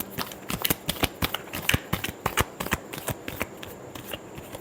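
Tarot cards shuffled close by, a steady run of crisp riffling snaps and flicks repeating in quick, uneven bursts for the whole stretch, with no voice over them.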